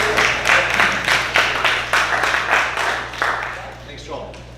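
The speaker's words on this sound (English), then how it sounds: "Let's give him a round of applause." Audience applause welcoming a speaker, a burst of clapping with rhythmic individual claps that tapers off over a few seconds.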